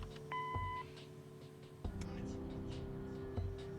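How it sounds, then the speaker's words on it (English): A short electronic answering machine beep in the video game Kathy Rain sounds once, clean and tonal, followed by a soft click and quiet ambience. "Leave a message after the beep."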